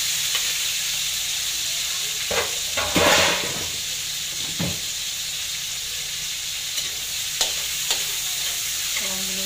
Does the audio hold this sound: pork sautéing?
yes